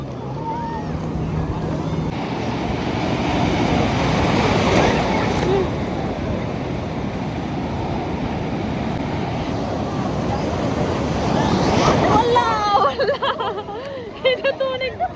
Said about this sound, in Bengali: এটা তো অনেক জোরে ঢেউ।